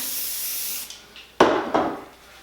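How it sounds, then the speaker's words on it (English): A steady aerosol hiss of hairspray fades out, followed by two short, sharp bursts sprayed onto a strand of hair close by. "Gonna spray my strand."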